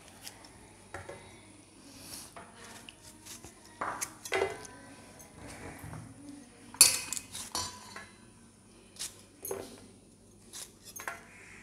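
A knife cuts up pieces of jackfruit on a hard surface, making scattered sharp knocks and metallic clinks with quiet gaps between them, close and fairly soft.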